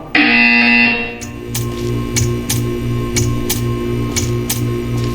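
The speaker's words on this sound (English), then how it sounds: "You will hear a buzzer." A buzzer from the video game Portal 2 blares in one long, loud electronic tone, then gives way to a run of sharp, evenly spaced ticking clicks over a low hum.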